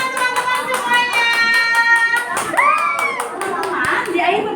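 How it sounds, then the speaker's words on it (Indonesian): Children clapping hands together in a classroom, a rapid run of steady claps layered under a teacher's voice and children's voices. "Oke, tepuk tangan teman-teman semuanya."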